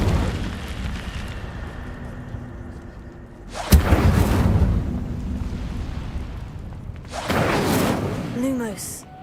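Incendio fire spell being cast in a video game, sudden whooshing bursts of flame erupting twice with roaring, crackling tails, between quieter ambient stretches.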